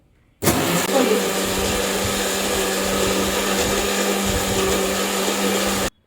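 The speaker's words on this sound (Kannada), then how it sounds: "ಅದಕ್ಕೆ ಹಾಕೋಣ ಮಿಕ್ಸಿಗೆ." A kitchen mixer grinder grinds cooked horse gram, starting abruptly and holding a loud, steady motor whir for several seconds before cutting off sharply.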